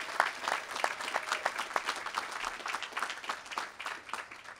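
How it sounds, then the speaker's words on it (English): Applause at a law school commencement, a large crowd clapping in a steady patter of distinct hand claps, moderately distant and sustained throughout. "please join me in giving them a round of applause as a small token of our gratitude"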